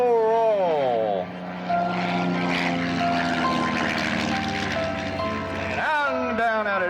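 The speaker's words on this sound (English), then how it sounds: "We come back down to Air Show Center at close to 200 miles an hour and pull the nose up for the super aileron slow roll." A propeller aerobatic airplane performs at a 1998 Michigan air show, its engine drone rising and falling in pitch as it pulls up and rolls, steady and fairly loud throughout while an announcer talks over it.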